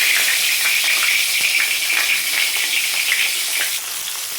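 Whole cumin seeds and bay leaves sizzle in hot oil, a loud, dense, continuous frying hiss with fine crackling. It holds steady from start to finish, then eases slightly at the very end.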